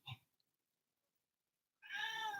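A pet cat gives a short faint chirp at the start, then, after a long silence, a loud drawn-out meow close by that ends abruptly.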